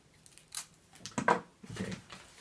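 Scissors snip through Christmas wrapping paper in a few short, crisp cuts close by, with paper rustling between them.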